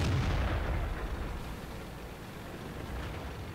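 Tank cannon firing in an M46 Patton tank video game: one loud booming blast at the start that decays into a rumbling tail.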